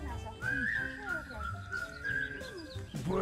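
A person whistles a bright, bouncy tune, clear sliding notes in quick phrases with brief breaks between them, close and fairly soft.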